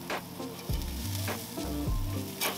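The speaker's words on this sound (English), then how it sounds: "Go ahead and flip these burgers." Burgers sizzle steadily on a hot cooking surface right after being flipped, with a few scraping spatula strokes over the frying hiss, close and moderately loud.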